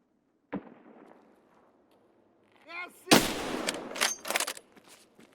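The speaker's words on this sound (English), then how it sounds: "This suppressor doesn't sound like it did a very good job." Suppressed sniper rifle shots: one sharp report, a pause, then a louder cluster of several cracks and echoing booms close together.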